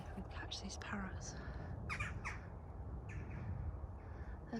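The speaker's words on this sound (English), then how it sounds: "See if we can catch these parrots." Raucous parrot calls, harsh squawks repeating in short bursts at a distance over a low rumbling background, with faint voices nearby.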